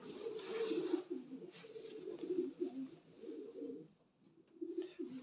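Racing pigeons in a loft coo steadily, a dense chorus of low rolling calls close by, continuous with brief pauses and no talk over it.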